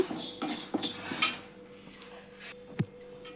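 Urad dal and other lentils being dry-roasted for homemade garam masala, a metal spoon scraping and clinking against the pan in a quick series of close, sharp contacts with no voices.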